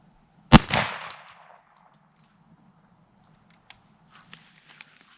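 A single loud shotgun blast firing Herter's low recoil 8-pellet buckshot at a 30-yard pattern target, booming sharply and ringing out over about a second, then a few faint clicks and handling sounds in the quiet afterward.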